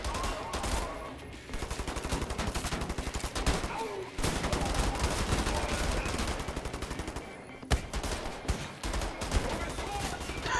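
Rapid automatic gunfire rattles through Wolfenstein The New Order gameplay in fast, steady bursts with a few short pauses, while people talk over the shooting.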